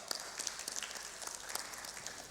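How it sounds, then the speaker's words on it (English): A fairly faint, scattered round of clapping from an audience at a panel discussion on digital lending, a few sharp individual claps over a thin wash of applause. "A big round of applause for Dr. Dutta."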